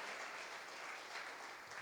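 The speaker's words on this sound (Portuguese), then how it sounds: "Pode aplaudir o Senhor por isso, porque Deus é bom." Church congregation applauding in praise, a dense, steady patter of many hands clapping, fairly faint and distant, with no voices over it.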